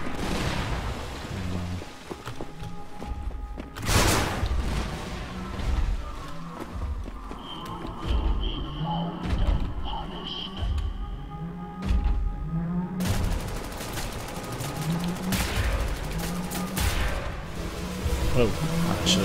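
Missile explosions and gunfire in Wolfenstein: The New Order: repeated heavy booms and bursts of shots, loud blasts near the start and again around the middle, over a steady din of combat with a voice talking.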